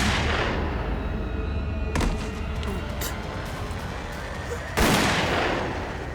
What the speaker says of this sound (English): Shot with a .357 Magnum.